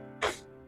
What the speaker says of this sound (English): bless me, I've been sneezing all week.